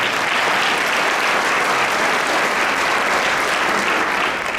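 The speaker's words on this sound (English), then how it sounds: "We can give her a round of applause." Dense, even applause from a concert crowd at the Coast Guard Academy in New London, a loud sustained wash of clapping with no voices.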